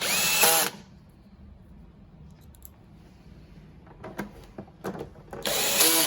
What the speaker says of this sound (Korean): 가지고 계신 드라이브 토크에 맞게 활용하셔야 됩니다.